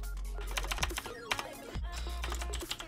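Rapid keystrokes on a computer keyboard come in short bursts with brief pauses, close-miked over a steady low hum.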